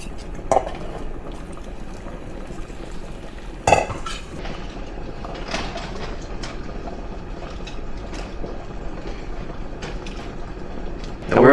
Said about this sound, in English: Once your pan's back on the heat. Alright, now once your pan is nice and hot again, go ahead and add in your asparagus.